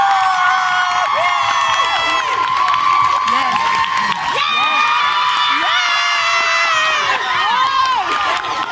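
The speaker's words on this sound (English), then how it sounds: "Let's give another round of applause." Audience applause and cheering at a talk event, a loud continuous roar of clapping with excited shouts and whoops layered over it from a lively crowd, sustained throughout.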